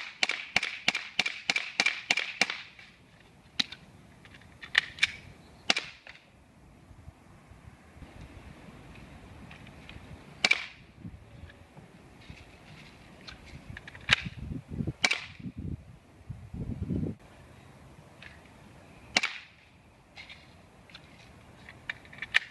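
Sharp cracking shots from an airsoft gas pistol firing BBs during an IDPA reload drill, a rapid string of about a dozen at the start, then scattered single shots with handling clatter and thumps between them.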